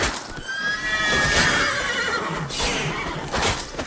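A horse whinnies loudly in the video game The Witcher 3: The Wild Hunt over a busy, noisy background, with hoof-like clatter and commotion around it.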